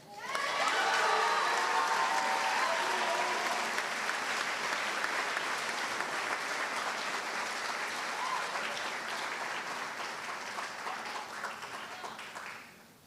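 A large audience at a senior awards ceremony applauds an award winner with steady, dense clapping mixed with cheers and a few shouts. The sound holds for about twelve seconds, then tapers off at the end.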